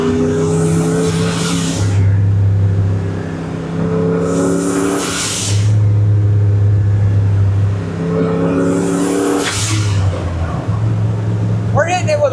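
A 1976 Ford F250 with a turbocharged 331 engine pulls hard under full boost, its engine note rising loud and close in three repeated surges, each topped by a turbo whistle and falling back between pulls.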